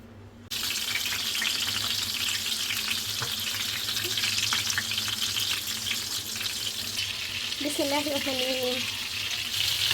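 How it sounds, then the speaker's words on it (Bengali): Fish frying in a pan on the stove while spices cook alongside: a constant close sizzle with spattering crackle, a brief clank near the start and a short tonal squeak later, no talking. "এই পাশে চুলাতে আমি মাছ ভাজা বসিয়ে দিয়েছি, আর এখানে মশলা কষিয়ে নিচ্ছি"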